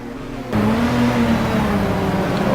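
Race car engine in a simGT sim racing game at Spa, a sustained whirring drone that starts abruptly after a moment of quiet and holds steady, with slight shifts in pitch as the motor cuts on and off.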